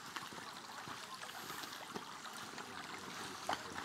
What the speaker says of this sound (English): like the trickle sound.